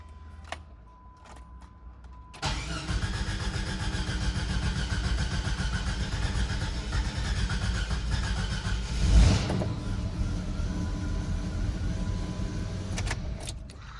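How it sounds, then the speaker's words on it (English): An old Jeep engine cranks and catches, then settles into a steady rough idle, close and even for about ten seconds, with a brief louder surge midway and a few clicks at start and finish. "let's see how she starts up 24 hours later"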